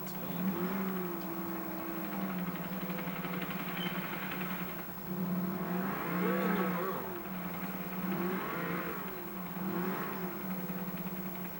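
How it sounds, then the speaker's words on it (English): A GTO muscle car in GTA IV revs and accelerates, its mid-pitched engine rising and falling in repeated surges over about ten seconds, loud and close with a steady whir underneath. "This car just got so much power, the GTO."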